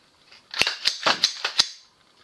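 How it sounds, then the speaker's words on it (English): An AR rifle being unloaded with its magazine removed, heard as a quick series of about six sharp metallic clicks and clacks, close and fairly loud, with no talk. "Unload. Magazine out."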